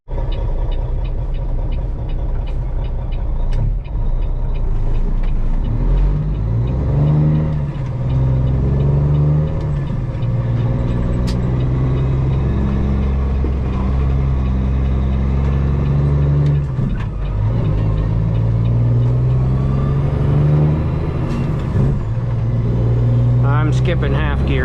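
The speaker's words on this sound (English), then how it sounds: "It's pretty loud since we did the engine swap with the 7-inch pipes, with the 7-inch Y pipe" A custom Peterbilt truck with a swapped engine and 7-inch straight pipes on a Y pipe drives on a two-lane road, its deep exhaust rumbling loudly and rising and falling in pitch through several gear changes, heard from inside the cab.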